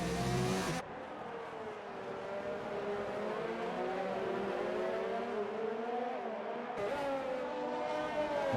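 Formula 1 race cars from the F1 2019 game at the Brazilian Grand Prix, engines droning steadily at high revs as the cars run close together, with a louder surge at the start and again near the end.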